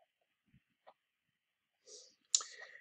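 Computer mouse clicking while saving and exiting a page, a few faint isolated clicks spaced apart, then a pair of louder, sharper clicks near the end, close and otherwise quiet.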